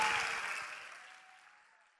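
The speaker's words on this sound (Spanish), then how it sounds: "fuerte, fuerte aplauso" An audience claps for the event organizer at a podcast recording of the Aula Marina anniversary event in Colombia, a loud burst of applause that fades steadily away over two seconds.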